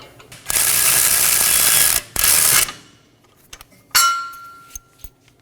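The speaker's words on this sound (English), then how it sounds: "Now remove the bolt." A ratchet spins off a rear upper control arm bolt on a 2018-2024 Toyota Camry, two long loud bursts of rapid clicking with a short break between them, then scattered metallic clinks and a short final ratchet pass.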